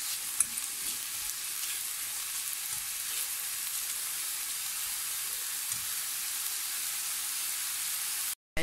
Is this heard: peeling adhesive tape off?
no